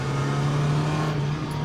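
Mazda Miata engine humming steadily with a constant low drone and whir, close and fairly loud, no voices over it.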